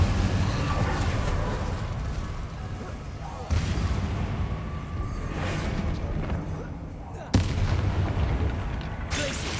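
The Incendio fire spell being cast in Hogwarts Legacy, with a booming, roaring fiery blast that recurs about three times, each burst loud and close over constant rumbling background noise.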